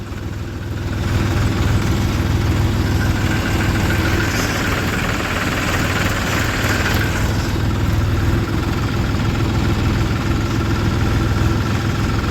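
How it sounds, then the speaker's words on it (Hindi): A tractor's heavy diesel engine, model 265, idles steadily at low revs while moving slowly, a continuous deep rumble with a faint knocking throb that stays even throughout. "एक चैन चलने की वजह से ट्रैक्टर बहुत धीमे धीमे चल रहे हैं"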